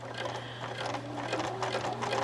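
A sewing machine stitches binding along the edge of a quilt, a steady close mechanical whir with a low motor hum and rapid needle rhythm, heard alone.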